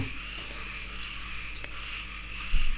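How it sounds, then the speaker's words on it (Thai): Frogs croaking outdoors in the countryside at one in the morning, a steady, dense chorus of calls with insect-like trilling, heard at a moderate distance and continuing throughout without talk. "บ้านนอกแค่ไหนดูกบ ยังร้องอะ"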